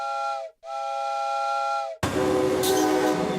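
A steam train's whistle sounds twice with a short break at a station, then gives way to a loud, steady rush and rumble of the moving train.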